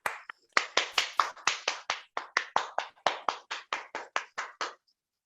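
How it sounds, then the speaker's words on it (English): Online audience applause at the inauguration of a literature festival's second season, heard as a run of about twenty sharp, evenly spaced claps, fairly close and clean, that stop abruptly with no talk. "Please unmute yourselves and let's welcome him with a huge round of applause."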